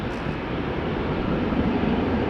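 KLM Boeing 777-200 airliner at a rainy Amsterdam Schiphol Airport, a broad low jet roar held steady and fairly distant throughout, with no voices.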